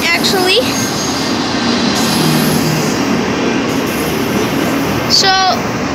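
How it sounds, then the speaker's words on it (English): A Union Pacific freight train hauling Norfolk Southern cars rolls past close by with a loud, steady rumble. High wheel squeals rise at the start and again near the end. "we caught a Union Pacific carrying Northfolk Southern"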